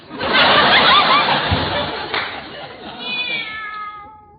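Cat meowing in a vintage radio comedy, a drawn-out, loud, close yowl followed by a rising whine, with a muffled chuckle beneath it.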